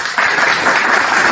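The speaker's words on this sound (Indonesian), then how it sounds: "Jadi berikan tepuk tangan yang meriah untuk Dinda Fandi Ahmad." A crowd gives loud, lively applause for Dinda Fandi Ahmad, a dense and steady wash of clapping that swells right after the start.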